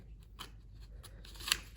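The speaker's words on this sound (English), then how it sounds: "you should be able to cut right through now at this point" Scissors cutting slowly through a paper model net, a few soft close snips and crunches, with one sharper cut near the end, quiet and alone.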